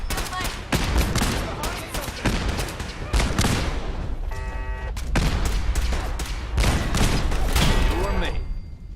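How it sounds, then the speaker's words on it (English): Rapid volleys of enemy gunfire crackle in Fallout 4, dense bursts of shots and automatic fire repeating loud and close with brief lulls between. "Why are they shooting?"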